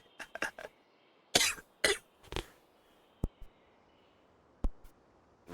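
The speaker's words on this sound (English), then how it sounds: "Regularly muting my mic every time I start coughing really badly." Several harsh coughs from one person, near and loud, arriving as short bursts in uneven clusters separated by quiet gaps, with a couple of fainter throat sounds mixed in; the person has a slight cold and a sore throat.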